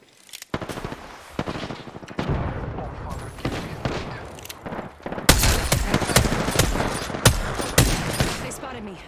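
Video game gunfire runs throughout as dense rapid bursts, quieter early on and growing louder and heavier toward the end, with booming impacts mixed into the sharp cracks.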